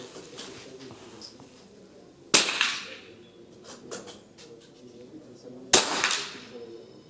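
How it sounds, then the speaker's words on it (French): An FX Panthera Hunter compact PCP air rifle fires a pellet, giving two sharp, close, loud cracks a few seconds apart, with faint handling noise and some quiet talk between the shots. "Premier plomb est tiré."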